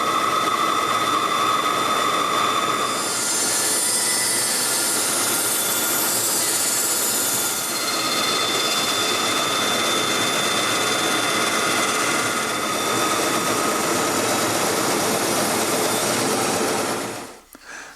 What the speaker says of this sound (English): I'm going to take this piece back over to the band saw, and I'm going to cut it